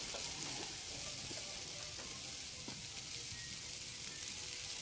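Teriyaki chicken wings sizzle over the heat on a Weber kettle grill, a steady faint crackling hiss with scattered small pops, continuous and unbroken throughout.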